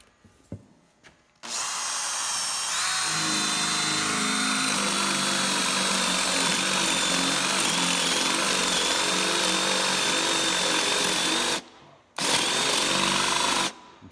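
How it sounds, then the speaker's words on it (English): A power drill whirs loudly and steadily for about ten seconds, stops briefly, then starts again, with a grinding edge from the bit chewing through lumber while boring two holes. "we're just going to drill 2 holes"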